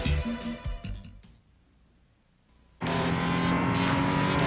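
Race cars roar around the track at the 1996 IMSA Dallas Grand Prix, a loud pass fading to a quiet lull before another car screams in, engines wailing at full volume with no talk.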